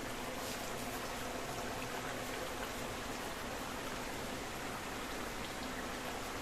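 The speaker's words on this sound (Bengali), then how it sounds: "একদম পুরো মাংসের মতো টকবক করে ফুটছে ঝোলটা" Pointed gourd curry gravy bubbling steadily in a pot, a dense, continuous burble and pop at close range with no voices.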